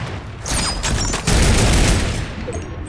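A video game weapon fires in dense, loud volleys, a rapid crackling fusillade that swells and intensifies partway through before cutting off into quieter game ambience.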